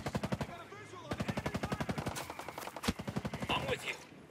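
Sustained automatic gunfire in a video game firefight in Ghost Recon Breakpoint, rapid rhythmic bursts of machine-gun shots running almost continuously, loud and close, with scattered louder single cracks.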